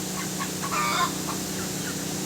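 Chickens, tied up outdoors during a typhoon, cluck softly over a steady outdoor hiss, with a brief rooster-like call rising in the middle, somewhat distant.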